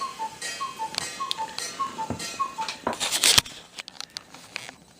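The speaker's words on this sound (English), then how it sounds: "Cuckoo clock says 8 o'clock." A cuckoo clock ticks steadily in a quiet room, a soft even tick-tock repeating about twice a second, followed by a brief burst of rustling and clatter.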